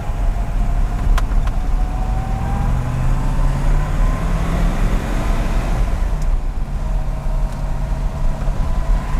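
A silver 1963 Chevrolet Corvette split-window coupe idles steadily up close, its engine drone loud and continuous throughout with a faint shift in pitch partway through.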